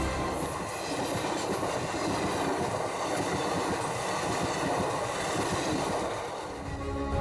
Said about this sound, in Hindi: कुछ ही ट्रेन फिलहाल पटरियों पर दौड़ रही हैं।